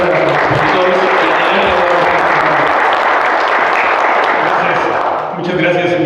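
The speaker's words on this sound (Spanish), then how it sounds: "Un aplauso, por favor, para los expositores." Steady, dense applause from a crowd at a business innovation event in Querétaro, for the speakers, fills the whole stretch at a constant level, dipping briefly near the end.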